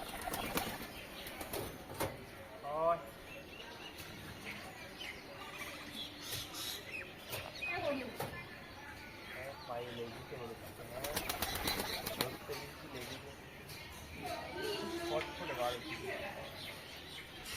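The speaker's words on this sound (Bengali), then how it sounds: "এই যে পায়রাগুলো এখন সব খাচ্ছে" Several homing pigeons on a small pigeon farm coo and rustle nearby as they feed, with intermittent wing flaps and scuffling, while people talk over them.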